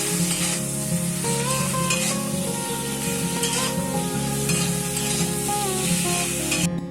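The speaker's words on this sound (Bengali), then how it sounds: "সমস্ত কিছু ভালো করে মিশিয়ে শিম নরম হয়ে আসা পর্যন্ত ভেজে নিতে হবে।" Flat beans (shim) fry with salt, turmeric and chopped tomato, with an even sizzle and occasional stirring under steady background music.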